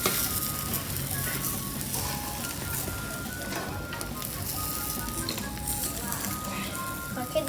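An egg frying in a pan on a gas stove, with a steady hiss and crackle of hot oil running throughout and some faint clinks and tones mixed in.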